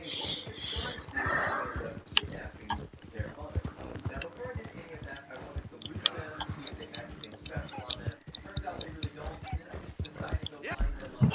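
Hoofbeats of a horse trotting in Red Dead Redemption 2 tick along in a quick, even rhythm close by, with a brief whinny early on and a voice talking over much of it.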